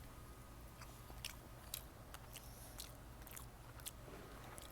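Quiet close-up chewing of a bite of seafood rice with shrimp, soft wet crunches and squishes recurring irregularly over faint background hum.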